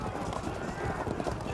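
Armored horse archers gallop in Field of Glory 2, a strategy video game, as a dense, continuous rumble of massed hoofbeats with no gaps.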